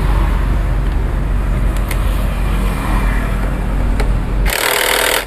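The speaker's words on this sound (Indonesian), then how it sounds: "kemudian kita kencangkan menggunakan impact agar bautnya kencang" An impact wrench tightens bolts while timing gears are fitted to a Yamaha Mio M3 or Mio J motorcycle. A loud, steady mechanical whirr runs throughout and ends in a sharp hissing burst.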